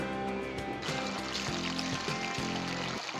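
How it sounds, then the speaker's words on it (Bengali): Paneer cubes fry in hot oil in a pan, giving a steady, close sizzle with crackling and bubbling throughout. "তার জন্য প্রথমে আমরা পনিরগুলো ভেজে নেব"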